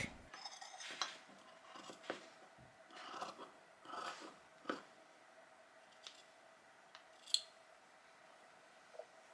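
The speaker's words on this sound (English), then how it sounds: "Cut 2 pieces from the fabric." Quiet scissors snip through fleece fabric in a series of irregular crisp cuts, close and soft, with pauses between strokes.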